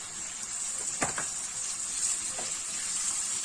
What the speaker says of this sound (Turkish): tencereye biraz yağ aldık ve yağımızın üzerine ciğerlerimizi döküyoruz